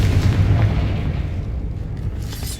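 A Confringo spell blast in the Hogwarts Legacy video game lands as a deep booming explosion that rumbles and slowly fades over a few seconds, with no talking.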